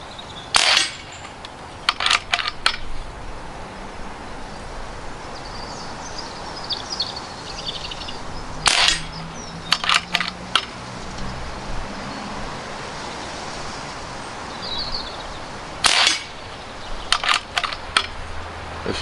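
An Aselkon Ravello RX6 air rifle fires sharp, close cracks outdoors over a steady background hiss, with shots arriving in short clusters of three or four, separated by pauses of several seconds.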